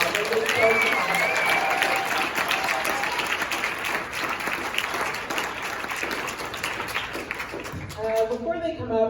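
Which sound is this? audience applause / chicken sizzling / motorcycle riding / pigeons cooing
audience applause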